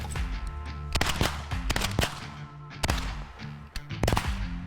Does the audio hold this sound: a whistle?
no